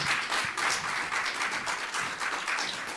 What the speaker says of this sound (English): please give Mr. Joseph another round of applause for an incredible presentation.